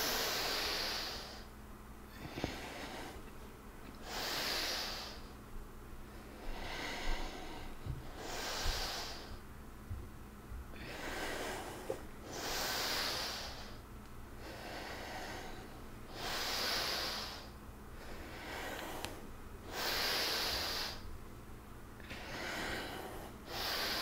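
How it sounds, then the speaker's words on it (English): Breathing drawn through the nose during a yoga pranayama class, as slow, soft hissing inhalations repeating about every three to four seconds, close and steady, with no talk over them. "Try to breathe through the nose."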